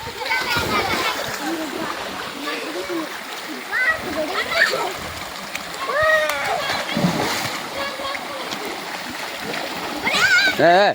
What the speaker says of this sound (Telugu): మినీ వాటర్ ఫాల్ అన్నమాట ఇది.